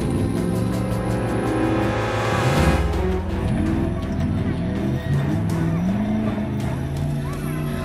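An off-road rally car races along a dirt track in Desa Kebon 9, Muaro Jambi, its engine droning steadily and loudly throughout, with a brief surge midway as it speeds off course, under crowd noise and voices.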